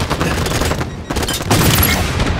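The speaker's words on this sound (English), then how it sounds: "Three Warhawks firing on me" Rapid gunfire from Warhawk aircraft in Halo 5, a dense, loud continuous barrage with a brief dip midway before the firing resumes even heavier.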